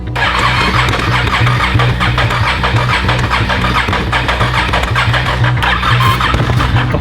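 A damaged four-wheeler ATV engine cranks and runs roughly, a loud, steady, close mechanical drone with a pulsing, uneven beat and a high squealing whine over it.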